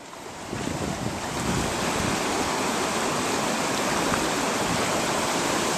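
High river water rushes in a loud, continuous roar, swelling after the first second and holding steady and close at a gold-prospecting spot by bedrock.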